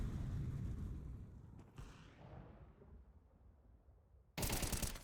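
Counter-Strike match gunfire: a loud burst of rapid shots at the start fading into a quieter tail, then another sharp loud burst near the end, no voices.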